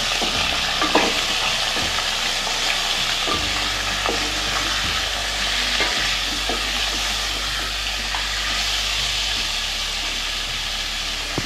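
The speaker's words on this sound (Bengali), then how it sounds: "আমাদের যে চিকেনের পিসগুলি আছে সেগুলিকে আমরা এর মধ্যে দিয়ে দেবো। ভালো করে কষিয়ে এটাকে আমরা রান্না করে নেব" Chicken pieces frying with whole spices and cumin for chicken korma, a loud steady sizzle and hiss throughout, with a few faint stirring scrapes, close up and with no voices.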